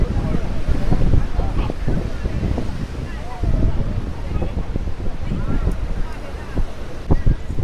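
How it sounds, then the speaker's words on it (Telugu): Steady wind buffeting the microphone on a glass bridge over the sea, with a low, continuous rumble and occasional gusts; a voice talks faintly throughout. "బ్రిడ్జ్ కదా ఇది సో మంచి గాలి వస్తుంది"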